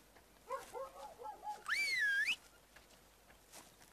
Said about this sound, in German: Man kann mit der Endetaste pfeifen.